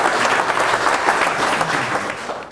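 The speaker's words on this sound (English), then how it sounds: "can I have a round of applause for Dolf" An audience applauds investor Dolf De Roos after his talk on commercial property ideas, a short, dense burst of many hands clapping close and loud before starting to taper off.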